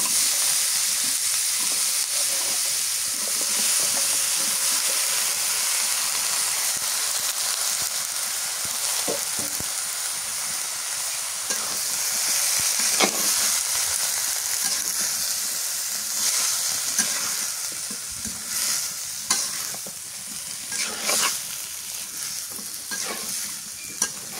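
Vegetables with turmeric powder fry in a pan in a village kitchen, a loud, steady sizzle and hiss that holds for over twenty seconds with occasional stirring scrapes and clinks and no talking.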